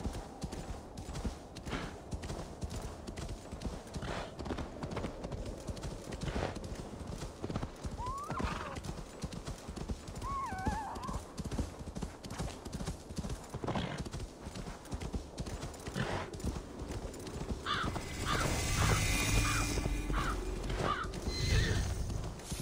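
Horse hooves clip-clop steadily in Assassin's Creed Valhalla, close and continuous across the ride, with a horse whinnying and other game sounds mixed in.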